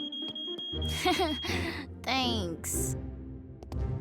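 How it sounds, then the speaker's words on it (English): A smoke alarm in a Transformers: Rescue Bots cartoon, a thin, steady high-pitched electronic tone that runs for over a second beneath animated character voices. "Oh, the smoke alarm."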